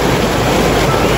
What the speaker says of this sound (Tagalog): Grabe po ang lakas ng agos.